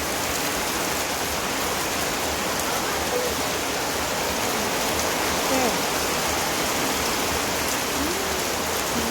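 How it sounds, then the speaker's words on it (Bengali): Heavy rain falls steadily beyond a veranda, a dense, even wash of noise with no breaks, loud and constant throughout. "সকাল থেকে অনেক বৃষ্টি হইতেছে"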